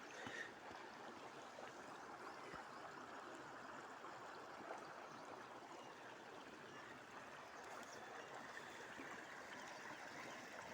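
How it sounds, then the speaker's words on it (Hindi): Clear spring water flowing in a stream through a clean, unpolluted natural setting, a steady, soft broadband babbling and rushing that holds evenly throughout with no voices. "साफ पानी और पानी की कलकल आवाज़ के साथ देखिए आप"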